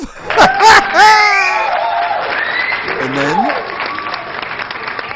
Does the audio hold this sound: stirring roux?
no